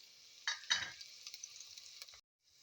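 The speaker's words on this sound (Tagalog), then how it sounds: "Then just I put only little oil here, just only for a saute." A little oil sizzles and hisses in a pan while ingredients are stirred and sautéed for an Ilocano pinakbet, with crackling bursts and faint scraping before the sizzle cuts off.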